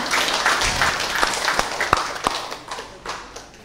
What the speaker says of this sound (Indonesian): Untuk itu tepuk tangan kepada beliau berdua.